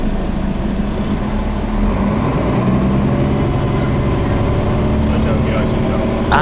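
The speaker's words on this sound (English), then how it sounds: "let's go to the back again and listen to the engine" An articulated bus engine rumbles steadily up close from the rear, a low continuous drone with some rattling mechanical texture throughout.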